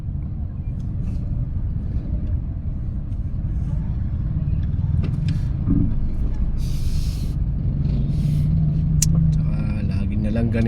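Steady road traffic in Doña rumbles with a constant low car and engine drone, a brief hiss and a horn-like tone rising over the din, heard from close to the roadside.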